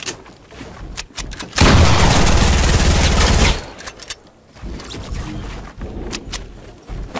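An RPG blast and heavy gunfire in a shooter game: a loud two-second roaring explosion-like burst, followed by scattered sharp shots at moderate distance.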